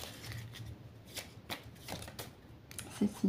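A deck of oracle cards is cut and shuffled close up, giving a soft riffling flutter and a few light taps over about three seconds, with no speech.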